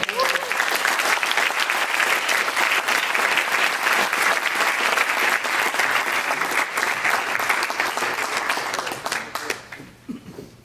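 Sustained, dense applause from a crowd fills a room at a women's event in Seattle as a guest is welcomed, holding loud and steady for about nine seconds before fading out at the end.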